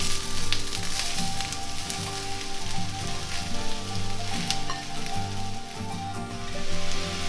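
Mushrooms frying with caramelized onions in a pan, a steady bright sizzle and crackle throughout, close and continuous, with faint low background tones underneath.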